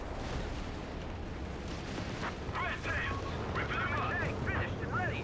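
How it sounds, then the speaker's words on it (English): Artillery shells landing on Grant tanks during a 3v3 Company of Heroes 3 battle on the L'Aquila map, with rumbling booms and bursts of gunfire under steady commentary, growing denser toward the end. "Artillery, though, hitting the Grants."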